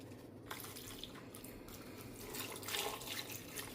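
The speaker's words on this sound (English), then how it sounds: "Adding about 2 cups of water." About 2 cups of water pour steadily into a cooking pot of seasoned ingredients, a faint continuous splashing and trickling that swells slightly toward the end.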